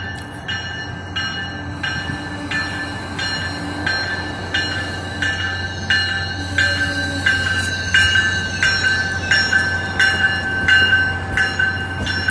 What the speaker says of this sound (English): This train's going a little bit slower than usual